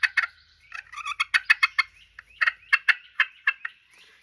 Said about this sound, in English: And here's your red slate, has a different pitch.